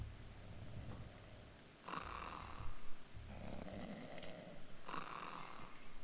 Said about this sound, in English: all I hear is this guy snoring now?